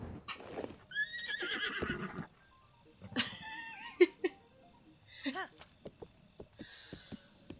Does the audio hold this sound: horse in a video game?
yes